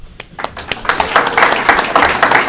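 Applause breaking out at a UFCW Local 1500 union membership meeting as the union president is introduced, beginning with a few scattered claps and swelling into steady group clapping.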